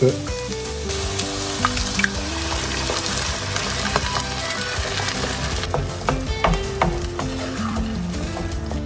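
Celery sizzles and fries in a pan for caponata, a steady loud crackle with occasional stirring clicks and scrapes over the continuous hiss, no voices.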